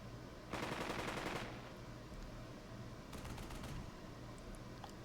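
Burst of automatic gunfire from the World War II strategy game Burden of Command, set in North Africa: a dense, loud rattle of about a second, followed by a fainter, shorter volley a moment later, over a steady low background.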